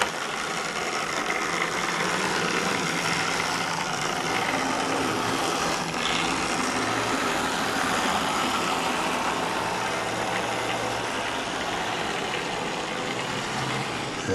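A model British diesel locomotive shunts slowly into an engine shed on a layout, its small motor giving a steady, close whirring drone that holds evenly throughout.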